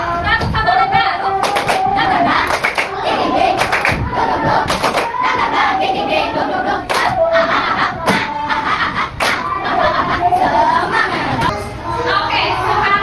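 An elementary school class at SDN Cijantung 02 claps the "tepuk semangat baru" routine together, loud and rhythmic. Bursts of synchronized claps alternate with children chanting and shouting throughout.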